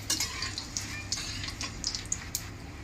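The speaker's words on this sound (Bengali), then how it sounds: "দিয়ে একটু ভেজে নিয়ে, হালকা করে একটু ভেজে নিয়ে" Cumin seeds, two bay leaves and dried red chillies fry softly in a pan for a village-style chicken dish, giving a gentle, steady sizzle with scattered light clicks and taps of a spoon against the pan.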